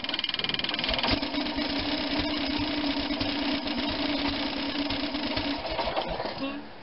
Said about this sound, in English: She started up a little better than what she used to.